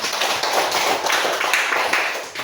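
Students in a classroom clap together in a short burst, close and fairly loud, with crisp overlapping claps.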